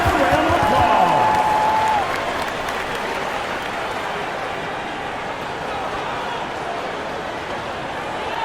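Arena crowd at an NBA basketball game between the Mavericks and Nuggets applauding in a broad, steady roar of clapping that holds for several seconds, with a brief whistle-like tone near the start.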